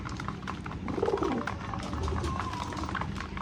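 Pigeons cooing in a loft in Sirajganj give a soft, low, throaty coo close by, over a faint background of shuffling and rustling.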